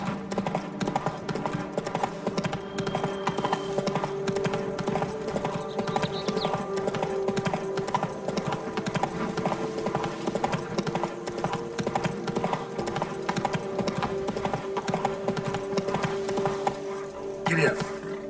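Roach, the horse in The Witcher 3: Blood and Wine, gallops in a rapid, steady clip-clop of hooves that runs throughout, with music and game ambience layered underneath and a voice speaking briefly.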